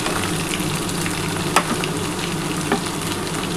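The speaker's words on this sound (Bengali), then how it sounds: "এবার আমি বরবটি আর বেগুনটা দিয়ে দিলাম। এটা একটু হালকা করে ভেজে নিই" Yardlong beans and brinjal fry in a pan with a continuous, moderately loud sizzle, broken by a couple of brief sharp crackles or stirring knocks, and nobody speaks.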